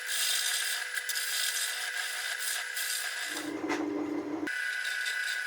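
A wood lathe spins a bowl blank while a tool cuts a tenon, a continuous scraping, hissing cut with a brief shift in tone where the tool pauses, then resumes.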